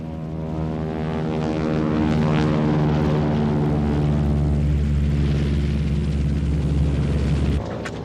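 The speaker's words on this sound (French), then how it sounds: "un cargo américain qui vient de déposer armes et munitions sur la piste" Steady propeller drone of an American cargo plane on a jungle airstrip in 1960s Laos, loud and close with a low rumbling hum that holds constant before cutting off near the end.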